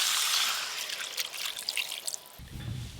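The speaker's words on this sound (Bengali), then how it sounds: "এবার জল দিয়ে দেব," Water poured into a pan of spiced potato, egg and broccoli, a close, hissing trickle that runs for a couple of seconds before a brief bubbling splash at the end.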